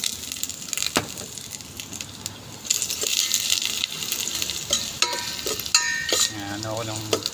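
Ginger sautéing in a hot pan for beef papaitan, a steady sizzle and crackle of frying with occasional stirring clinks and scrapes, fairly close and continuous throughout.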